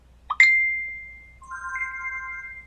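A mobile phone sounds a short ringtone chime followed by sustained tonal notification alert tones, clear and close with no talking.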